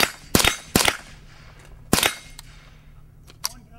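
.22 rifle and pistol gunfire at a two-gun shooting match at Creekside Firing Range: four sharp, loud cracks in an uneven rhythm, then a fainter shot near the end, with a brief muffled voice between them.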